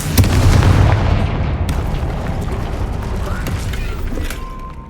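A loud fiery blast from the Confringo spell in Hogwarts Legacy bursts out at the start and rolls into a sustained rumbling roar that slowly fades.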